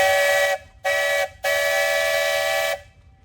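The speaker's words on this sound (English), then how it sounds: "Shelly, how about a whistle" A loud steam traction engine whistle blows three times: two short blasts followed by one long sustained blast, clear and close, with nothing else around, at a steam show in Halltown, Missouri.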